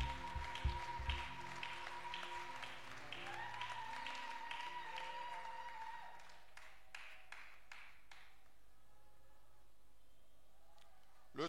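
A church congregation at a Sunday worship service applauds as a family walks forward, with dense, sustained clapping over a steady held tone that thins to a few scattered, separate claps near the end.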